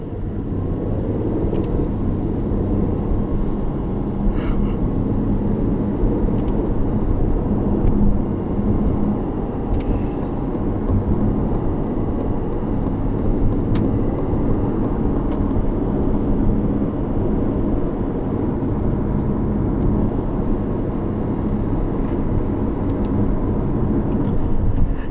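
A 2020 Aston Martin Vantage sports car, manual or paddle-shift, driving with a steady, loud engine and road rumble filling the whole stretch, heard from inside the cabin without talk.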